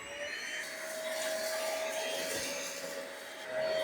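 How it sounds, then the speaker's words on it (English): A Pet Save vacuum cleaner running on turbo mode over cat litter on a thin rug, a steady loud whine with a high motor tone and constant airflow hiss, close and continuous, with no talking. "We're going to use the per save vacuum, see if it's going to scatter it or what it's going to do."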